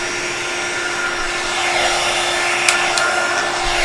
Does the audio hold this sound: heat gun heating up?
yes